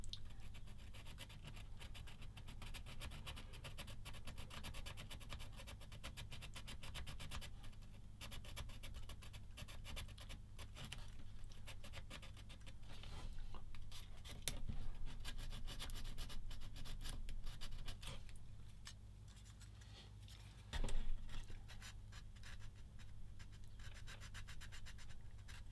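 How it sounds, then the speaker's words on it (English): A sanding stick rubs against a small plastic part of a Tamiya 1/35 SdKfz 222 model kit, giving a steady, close, continuous scratchy rasp with a low hum beneath it and one brief bump near the end. "I'm going to do a bit more with this sanding stick"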